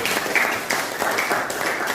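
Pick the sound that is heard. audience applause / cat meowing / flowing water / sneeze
audience applause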